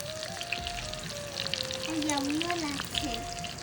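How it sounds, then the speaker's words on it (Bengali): Fish pieces frying in hot oil in a small toy-style mini kitchen, a soft continuous sizzle with faint crackles, quiet and close, while a person talks over it. "আরাধ্যা গরম তেলে দিতে একটু ভয় পাচ্ছে তাই আমরাই দিচ্ছি"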